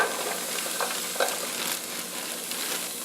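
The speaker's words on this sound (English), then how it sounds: "So I'm going to add in all of my diced celery that we did earlier." Diced celery sizzles and crackles in hot olive oil in a pot for chicken gnocchi soup, a steady close frying hiss with a few stirring scrapes.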